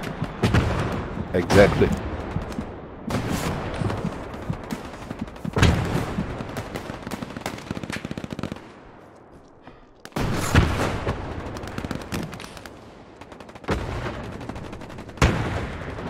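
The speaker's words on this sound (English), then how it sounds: "those are the bombs there" Bombs and artillery explode during a Hell Let Loose battle, repeated heavy booms and gunfire bursts rolling across the scene, with a brief quieter gap and a voice speaking briefly.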